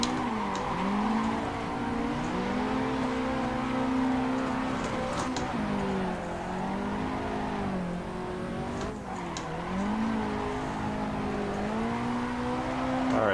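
In Assetto Corsa sim drifting on canyon roads, a car engine revs up and drops repeatedly through gear changes, with rising and falling pitch sweeps, loud and close, alongside occasional tire squeal.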